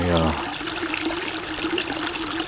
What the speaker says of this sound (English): being here in this little creek